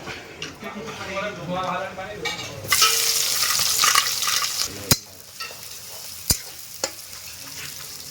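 Fish fries in hot oil for Odia home cooking, giving a loud continuous sizzle and crackle. Stirring and a few sharp clinks of utensils come through, with a voice talking over the first few seconds.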